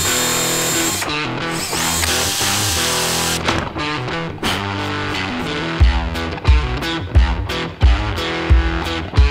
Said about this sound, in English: I'm going to take this countersink drill bit so that the screw sits slightly underneath the piece of wood